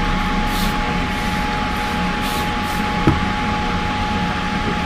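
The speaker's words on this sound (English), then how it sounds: "spray everything down" A hand spray bottle gives a few short hissing bursts while equipment is cleaned during grain-to-grain transfer, near and fairly loud over a steady background hum.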